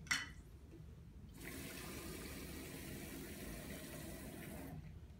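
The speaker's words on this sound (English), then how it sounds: "fill up with some water" Water runs from a tap into an Illy coffee machine's water tank for a few seconds, a steady rushing hiss that starts after a brief click and stops abruptly.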